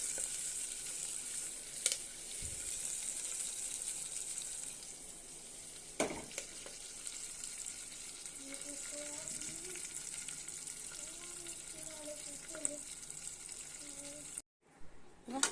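A tempering of dried chillies, curry leaves, garlic and cumin sizzles in hot oil for tomato rasam, a steady frying hiss with a few sharp clicks and clatters and faint background voices, ending in a brief dropout.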